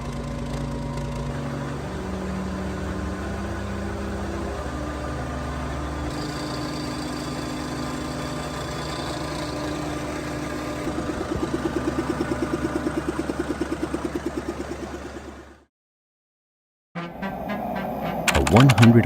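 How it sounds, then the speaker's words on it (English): A 100-horsepower hot bulb engine, about a century old, runs with a low, throbbing mechanical chug that grows into rapid, even knocking. The sound cuts out briefly, then returns loud and close. "A 100 horsepower hot bulb engine. Heat it first, then it will agree to fire."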